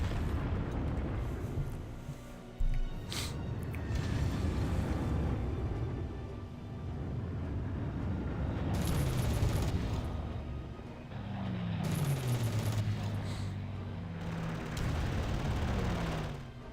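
Fighter strafing runs and explosions in the war game Panzer Corps make a continuous low rumble of blasts and gunfire bursts, with a few sharper booms and rattling volleys, fairly quiet in the background.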